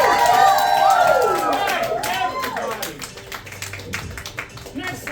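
Audience at a comedy deep-dive show clapping and cheering for a performer named Gaunt, loud at first and tapering off, mixed with a host's voice speaking over the crowd.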